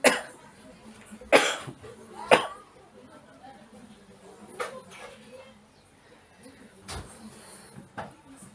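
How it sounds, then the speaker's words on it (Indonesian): A man coughs suddenly, with sharp bursts early on and scattered quieter coughs or throat noises later, in a quiet room. "tiba-tiba batuk."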